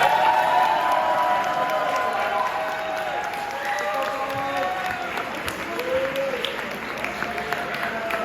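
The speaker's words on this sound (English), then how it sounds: "let's throw a round of applause for our middle school baseball team coach," At a school sports banquet, a crowd applauds and cheers for the middle school baseball coach, a sustained wash of clapping with scattered voices throughout.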